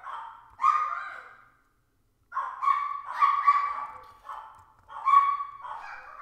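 Dogs bark in three dense clusters of overlapping barks, loud and nearby, with a short silence after the first cluster.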